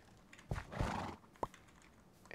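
A horse in the Minecraft video game gives a short snort and whinny with a couple of soft hoof clops, quiet and close, separated by brief pauses.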